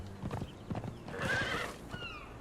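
A horse in the Conan Exiles video game neighs with a long whinny after a run of clip-clopping hooves, fairly close and moderately loud, with no talking.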